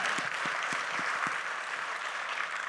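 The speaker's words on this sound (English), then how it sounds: "If I can get a round of applause." A gala audience breaks into a round of applause, a dense, even patter of many hands clapping together at moderate volume with a few sharper claps standing out near the start.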